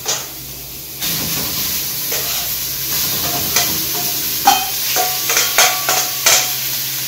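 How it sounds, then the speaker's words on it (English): Seasoned, oiled beef hitting a very hot pan for a Philly cheesesteak, a loud steady sizzle and hiss with scraping and stirring clatter, up close and with no voices. "So now we're just gonna go straight into this really hot pan with the beef."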